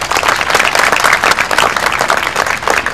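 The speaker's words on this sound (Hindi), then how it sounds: "सबसे पहले तो आप लोग अपने प्रिंसिपल एसपी सिंह सर का तालियों द्वारा धन्यवाद करिए" Students at a college development programme in Lucknow clap loudly for their principal, a dense, sustained round of applause from a large crowd that stays strong from start to finish.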